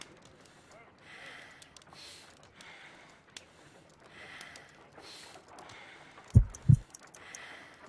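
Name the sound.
heartbeat in Sherlock Holmes video game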